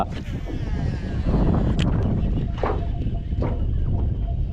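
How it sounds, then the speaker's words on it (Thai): Strong wind over the Ubol Ratana reservoir buffets the microphone in a continuous low rumble during snakehead fishing, with brief knocks and clicks from gear and someone speaking over it. "ลมสามตัวเลยนะวันนี้นะ"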